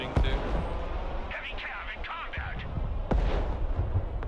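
Multiple rocket launcher artillery fires in the war video game Broken Arrow: deep, rumbling booms and crackling blasts roll on steadily, with a sharp report near the end, under a busy game mix.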